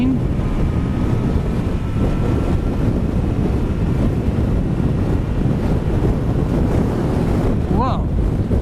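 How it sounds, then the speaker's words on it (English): Strong side wind buffets a motorcycle rider's microphone on a road in Maui, a steady loud roaring rumble that fills the whole stretch, with a brief faint whine rising near the end. "I did feel quite a blast of a side wind blowing me there"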